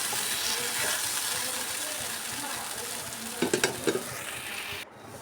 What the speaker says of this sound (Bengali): সুজির মিশ্রণটা দিয়ে আমি এটাকে এরকমভাবে নেড়ে চেড়ে একটা ডোয়ের মতো তৈরি করে নেব